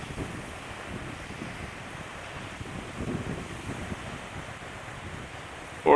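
Steady wind and waves on a lake wash over the microphone in a continuous broadband rush, with gusts swelling midway and a loud buffet at the very end.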